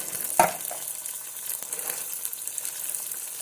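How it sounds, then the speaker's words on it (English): Green pigeon peas stirred in a cooking pot with other ingredients for arroz con gandules, a soft simmering sizzle with one sharp knock of the spoon early on and faint scraping afterward. "Going to stir this around, incorporate all of the ingredients for the gandules."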